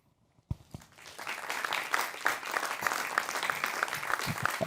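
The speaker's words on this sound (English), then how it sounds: "Round of applause for our winners." Audience applause for award winners at the JEC Innovation Awards 2024 ceremony, starting abruptly after a brief silence and building into a steady, sustained clatter of many hands that holds fairly loud to the end.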